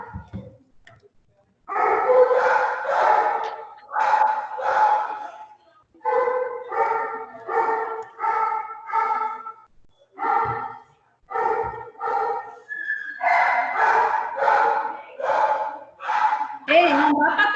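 Dogs bark in repeated bursts close by, with yips and whimpering howls mixed in, coming in uneven clusters separated by short gaps.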